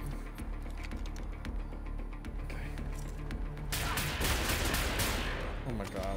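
Gunfire from soldiers in the shooter Wolfenstein: The New Order, with dense, continuous volleys of shots mixed with crashing impacts, growing heavier and louder toward the end.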